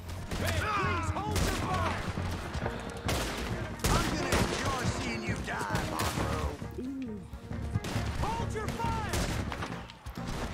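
Rapid rifle gunfire in Red Dead Redemption 2, a dense string of loud sharp shots and volleys that keeps going throughout, with other guns and clatter mixed in and voices shouting over it.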